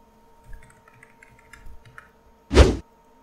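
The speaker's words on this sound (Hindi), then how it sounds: "तो मैं यहाँ मेरा डेट ऑफ बर्थ टाइप कर लेता हूँ।" Typing on a computer keyboard, soft scattered key taps at close range, followed by one louder, longer clack near the end over a faint electrical hum.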